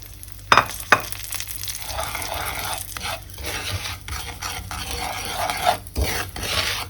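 Breadcrumbs stirred in a pan over low heat, giving a soft continuous scraping rustle with a faint sizzle and a couple of sharp utensil clinks near the start, close and alone without talk.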